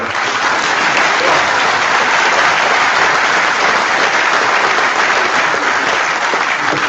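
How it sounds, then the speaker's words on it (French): An audience at a public meeting in March 2020 breaks into steady, dense applause that holds at an even level throughout, with no voices standing out. "Vous avez le droit d'applaudir."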